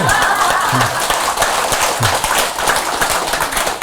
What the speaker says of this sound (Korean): 박수 치려면 확실하게 치시고.